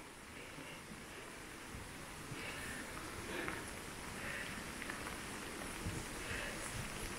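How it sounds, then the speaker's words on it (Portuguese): Steady rain falls over lush, tropical-looking green landscape in the Azores, a continuous soft hiss of drops on surfaces with faint scattered patter, moderately quiet and uninterrupted throughout. "Mas chove muito."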